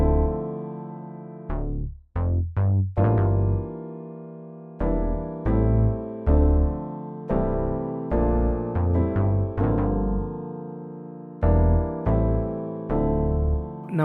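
Chord progression of major 6, major 7, minor 7, minor 11 and minor 9 chords played over a deep written bassline, sustained chords changing in a steady rhythm, close and full, with no talking.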